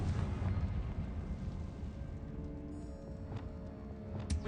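A Confringo spell explosion from Hogwarts Legacy bursts with a heavy booming roar that fades into a crackling rumble, followed by a few sharper magical pops near the end.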